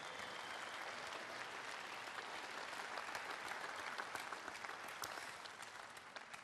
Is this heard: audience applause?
yes